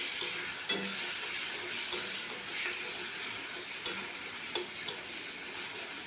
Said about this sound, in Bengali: এটা মশলাটা ভালো করে কষে নেব